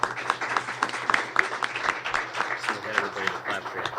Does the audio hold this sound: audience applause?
yes